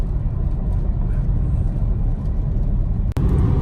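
A BMW 328i E92 with a misfire cruising on a highway, its engine a steady, loud, low drone of rumble and road noise inside the cabin, broken only by a brief click near the end.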